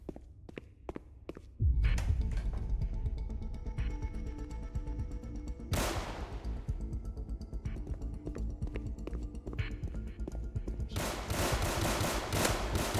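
Roblox game gunfire in a hotel at night: a few sharp single shots at the start, then a dense, loud run of automatic fire with sharper bursts, filling the whole stretch without talk.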